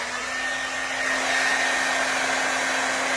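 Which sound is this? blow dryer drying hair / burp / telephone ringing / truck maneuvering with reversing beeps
blow dryer drying hair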